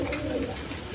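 A pair of white Dennis pigeons cooing close by, low soft continuous murmuring calls over a steady background, with no talk.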